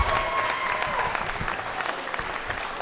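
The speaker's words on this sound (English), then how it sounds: "They would be so happy to hear you cheer." Audience applause at a gala presentation, steady close clapping from a crowd lasting a few seconds with a faint voice beneath.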